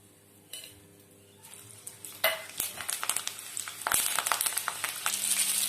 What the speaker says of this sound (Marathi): आता आपण मिरची तळून घेणार.